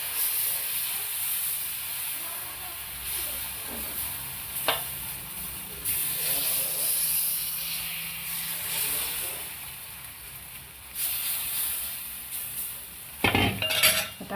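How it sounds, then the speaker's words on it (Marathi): Rice flour batter stirred in a pan over a high flame, with steady sizzling and steam hiss, scattered utensil scrapes and clinks, and a burst of louder clattering near the end. "आणि हे सारखं हलवायचं, नाही तर तांदळाचं पीठ आहे ना खाली बसतं"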